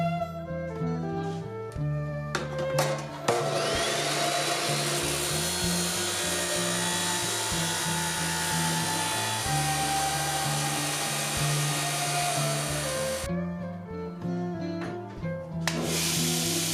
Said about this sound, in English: We'll chop the steel up and then clean it up nice and pretty.